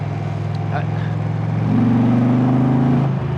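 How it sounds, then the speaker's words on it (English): An Indian Pursuit Limited cruiser motorcycle's big engine runs with a steady low throbbing idle, then rises in revs and holds a louder, harder drone before easing off near the end, close and continuous. "This engine does what I love in a lot of motorcycle engines, where it has the low down grunt"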